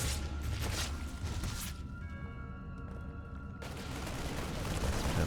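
Units firing on a target during a StarCraft 2 Terran versus Zerg match, a dense continuous burst of rapid gunfire and impacts that thins briefly midway, then surges again.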